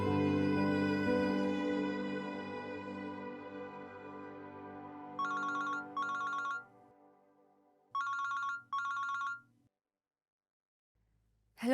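A telephone rings in two double bursts, loud and close, after a fading musical passage in a domestic drama scene, with no voices over the ringing.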